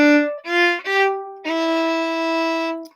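Closing two bars of a blues tune played on a single melodic instrument, a handful of clear sustained notes ending on a long held tone, close and alone.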